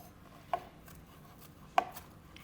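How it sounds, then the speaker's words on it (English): Fresh parsley being chopped with a knife on a board, just two soft, brief cuts heard close up against a faint background hum, with no talking. "Then we're going to chop up some parsley."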